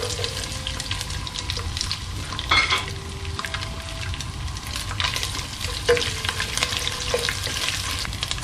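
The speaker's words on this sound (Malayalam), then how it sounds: "എണ്ണ ചൂടായി കഴിയുമ്പോൾ അതിനകത്തോട്ട് നമ്മൾ എടുത്തു വെച്ചിരിക്കുന്ന തേങ്ങാക്കൊത്ത് ആഡ് ചെയ്യാണ്." Coconut pieces frying in hot sunflower oil for a Kerala style beef curry, a continuous close sizzle and bubbling with occasional stirring scrapes and clinks, no talking.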